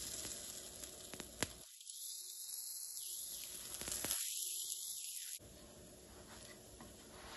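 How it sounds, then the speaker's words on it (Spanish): Gorditas de requesón fry in a little oil on a comal, giving a constant hissing sizzle with small pops, close and steady, briefly dropping out twice as if muted. "Aquí en este comal voy a poner poquito aceite. Voy a poner a cocinar las gorditas."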